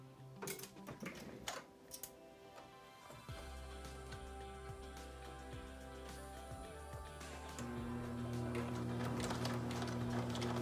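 A sewing machine stitches the two pieces of a shirt collar together along a curved line, its motor running as a steady mechanical whir with rapid needle clatter, joined by scattered clicks and handling noises.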